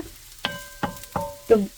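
Kimchi fried rice pressed and frying in a pan, heard as four spaced spatula taps or scrapes over a faint sizzle, with the last one loudest.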